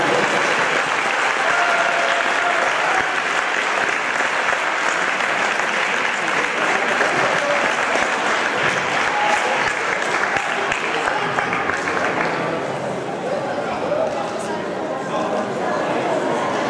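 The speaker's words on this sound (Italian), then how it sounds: "la Garibaldina di Mister Trainotti, chiamiamo quindi 2ª squadra classificata, la Garibaldina, un bel applauso ragazzi!" Applause breaks out for the second-place youth team at a tournament final, a dense crowd clapping loudly and continuously before tapering slightly toward the end.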